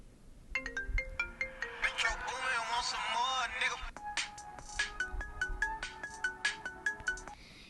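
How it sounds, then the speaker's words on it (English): A melodic phone ringtone plays a bright sequence of electronic tones, with a rapid warbling passage in the middle and then quick plinking notes, moderately loud and alone. "Yeah, it's just like the ringtone sound."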